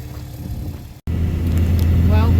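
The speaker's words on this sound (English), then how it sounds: "got the big trailer hooked up and we're on the road and everything seems to be fine" Truck towing a large three-car hauler trailer along the road, a steady low engine and road rumble from inside the cab, with a brief dropout and then a louder drone under a voice.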